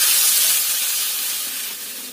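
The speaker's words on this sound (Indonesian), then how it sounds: "Kemudian kita tumis bumbunya ini sampai matang." Spice paste sizzles in a little hot oil over medium heat while being stir-fried for lontong vegetable stew, a steady bright hiss that slowly fades slightly across the moment, with no talking.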